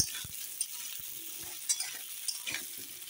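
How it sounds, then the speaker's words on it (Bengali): Diced potatoes frying in oil with salt and turmeric on a gas stove give a low, steady sizzle broken by a few soft scrapes and clinks of stirring, with no talking. "দেখো লবণ হলুদ দিয়ে এখন ভেজে নেব"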